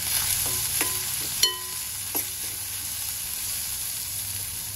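Chopped onion sizzles with crushed green chillies and garlic in a hot pan, a steady close fry broken by a few sharp clicks of a stirring spoon against the metal, with no voices.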